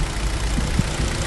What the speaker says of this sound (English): Engine's been running since we started